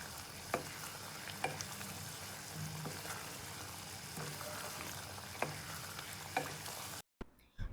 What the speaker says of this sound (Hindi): तो हम चम्मच चलाते रहेंगे और इसे भूनेंगे 2 से 3 मिनट तक।